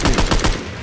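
Rapid gunfire in the video game Left 4 Dead 2 on a custom map, a close, loud burst of about five quick shots in under a second.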